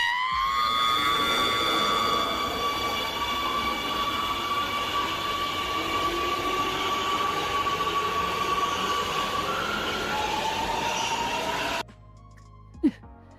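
A train rushes past in a video game, a loud, steady roar of wheels and rails with a high whine that slowly falls in pitch, cutting off abruptly near the end before one short click.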